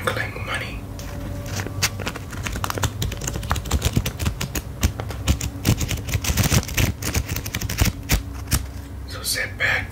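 Paper banknotes being crinkled, shuffled and sorted up close in a quiet ASMR setting, a dense stream of soft crackles, rustles and flicks with no speech over it.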